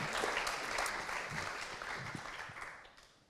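A film festival panel audience claps, a fairly faint, steady wash of applause heard from a distance that slowly fades toward the end.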